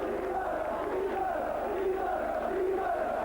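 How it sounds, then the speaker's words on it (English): A rugby league crowd at St Helens v Halifax applauds and cheers after a try, a distant, continuous wash of clapping and voices from the terraces. "Just getting the applause from the popular side as he salutes them as he goes back"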